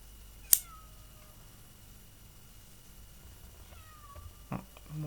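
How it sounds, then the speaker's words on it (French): A house cat meows to be let into a bedroom: one short sharp call near the start, then a drawn-out meow and a couple of fainter cries later, in a quiet room with a soft knock near the end. "mon chat qui veut rentrer dans la chambre"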